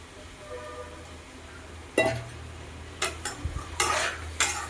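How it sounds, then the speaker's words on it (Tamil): Soaked beans being sautéed in a Tamil kuzhambu with brinjal, a spoon scraping and clinking against the pan in several short bursts over a low, steady sizzle. "பயறு சேர்த்ததுக்கப்புறம் நல்லா வதக்கி விட்டுக்கலாம்."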